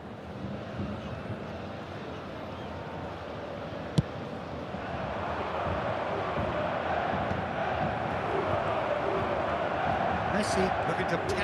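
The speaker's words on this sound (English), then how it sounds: "Certainly gave this crowd something to really cheer about." Stadium crowd in the football video game eFootball 2024 roars in a steady, dense wash of cheering that swells louder partway through, with a single sharp click near the middle.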